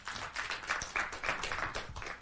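Applause from a live audience at a Kenyan public forum on small businesses, a steady patter of clapping hands lasting a couple of seconds at moderate distance, with no talking over it.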